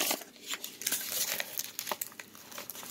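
Heavy packing tape being ripped and pulled off a mail package, giving a close series of irregular crinkling, tearing bursts.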